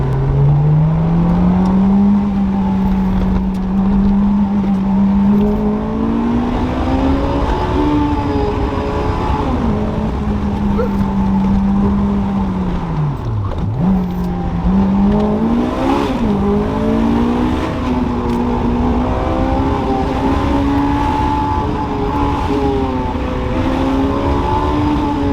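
Lightly modified Honda S2000 engine revving hard on a Swiss mountain touge road, a loud continuous drone rising and falling through the gears, with one sharp dip near the middle and no talking.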